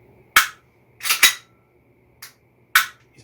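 HFC HG-185 gas blowback airsoft pistol firing: five sharp, snappy shots, one a quick double, loud and close in a quiet room, irregularly spaced, with no speech.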